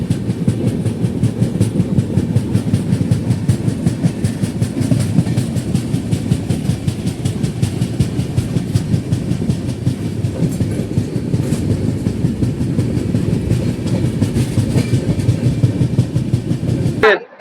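An Uday Express double-decker air-conditioned train rumbles along at about 110 km/h with steady, rhythmic clickety-clack of wheels on rails, loud and continuous throughout.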